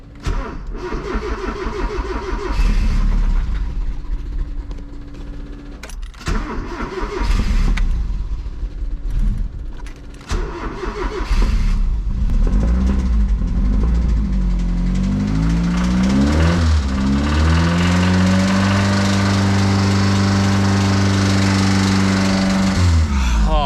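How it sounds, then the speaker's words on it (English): A Mazda 323 wagon engine with a worsening starting problem cranks in short bursts, sputters, then catches and revs, its pitch rising and falling steadily; loud and close throughout. "Every time I come in, I have to start up the red car."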